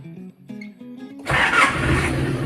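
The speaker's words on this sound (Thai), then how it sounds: "เดี๋ยวลองสตาร์ทเครื่องดูก่อนครับ" A Nissan Big-M pickup truck's starter motor whirs in short pulsing cranks, then the engine catches on the first try and settles into a loud, steady idle close by.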